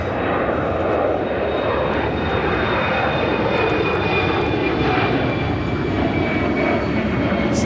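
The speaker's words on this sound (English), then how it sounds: "Swiss flight 8 coming in from Zurich at 777-300ER" A Swiss Boeing 777-300ER arrives at Chicago O'Hare, its engines a loud, continuous broadband roar that holds steady throughout with no speech.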